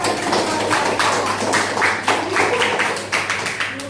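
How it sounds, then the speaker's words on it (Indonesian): A group of people in an Indonesian coding and artificial-intelligence training session claps for about four seconds. The burst is fairly loud and the claps are individually audible, with some uneven scattered hits. "Tepuk tangan dulu buat yang ada."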